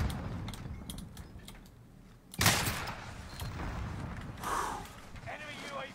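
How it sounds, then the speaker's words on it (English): Bursts of video game gunfire with a sharp loud crack partway through, followed by scattered shots and mechanical clicks. "I'm getting shot at. I'm being shot at."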